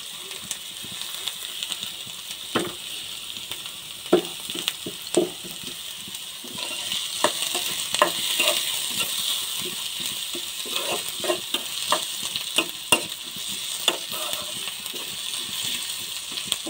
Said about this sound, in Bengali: আমি তেলের ভিতরে পেঁয়াজ, রসুন, মরিচ দিয়ে দিয়েছি